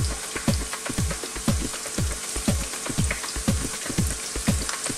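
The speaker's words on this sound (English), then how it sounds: "fry our yam up a little bit" White yam frying in a pan with salt and pepper, a dense steady sizzle with crackling pops repeating throughout, close and fairly loud with no talking.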